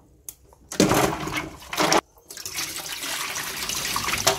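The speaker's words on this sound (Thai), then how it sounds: "เดี๋ยวเราเอามะขามมาล้างให้สะอาดก่อนนะคะ ล้างผิวมันออกก่อนลูก" Young green tamarind pods being washed and rubbed clean in water, with splashing and pouring in bursts and then a steady stream of running water close by.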